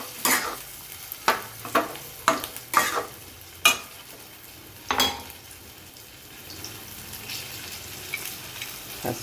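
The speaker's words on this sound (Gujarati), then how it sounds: "થોડું સવારનું શાક પડ્યું તે પણ આપણે મિક્સ કરી દઈએ." A spoon scrapes and stirs leftover cooked vegetables into a sago mixture in a pan, giving a series of sharp clinks and scrapes over a soft sizzle, then quieter frying toward the end with no talk.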